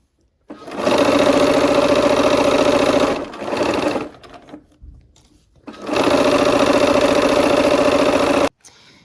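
Sewing machine stitching quilt block units together, two loud sustained runs of rapid, even needle chatter separated by a short pause, a brief burst and quiet handling of fabric.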